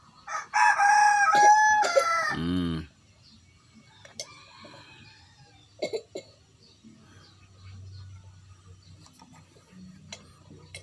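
A rooster crows loudly close by in a long, ragged call, then quiet background with scattered faint clicks and rustles follows.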